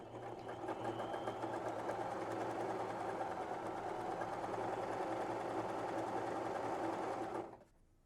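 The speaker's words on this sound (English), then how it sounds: "I'll just continue sewing all the way down." A bernette b33/b35 sewing machine runs steadily while sewing a hem, with a fast even whirring rhythm for about seven seconds before stopping abruptly, close and alone.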